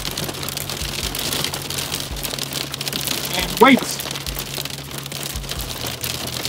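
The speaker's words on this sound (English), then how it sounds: "Hail in Auckland, New Zealand, which is unheard of." Hail pelts the roof of a bus in Auckland, New Zealand, a dense, steady drumming patter with a louder crackle of stones midway, and a voice speaks briefly.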